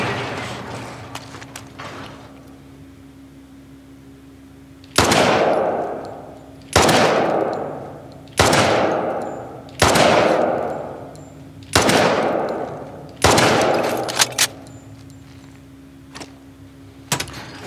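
Heavy gunshots in The Last of Us Part II, about six loud, booming blasts spaced a second or two apart, each trailing off into a long echo over a low, steady ambient hum.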